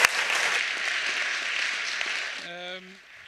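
An audience at a think-tank panel event applauds the experts on stage, a dense steady round of clapping that ends abruptly as a voice begins speaking.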